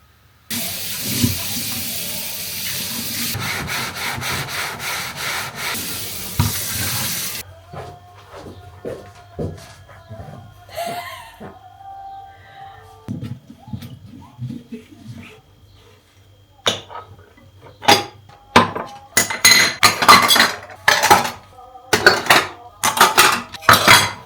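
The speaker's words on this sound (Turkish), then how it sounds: "Bulaşıkları yıkayayım." Running water fills a sink at first, then dishes and pots clink and clatter in irregular bursts, getting busier and louder toward the end.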